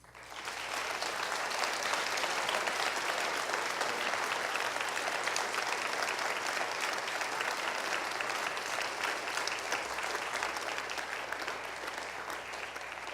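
An audience applauds its guests at a craft roundtable discussion, a steady, dense wash of clapping that holds evenly for about thirteen seconds with no talk over it.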